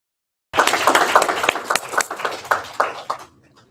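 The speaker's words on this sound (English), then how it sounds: "give yourselves a round of applause" Audience applause at a community event, a short burst of clapping that starts abruptly, peaks, then tapers into a few scattered claps before fading out.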